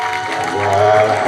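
A church congregation at a seminar claps along with worship, the hand claps mixed under a sustained musical or sung tone and blending into one warm, busy wash of sound.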